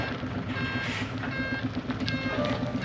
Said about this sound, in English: The delivery truck is here.